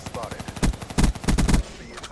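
Gunfire in the video game Call of Duty Black Ops III: rapid automatic bursts, loud and close, in several short volleys, with faint game sounds between them.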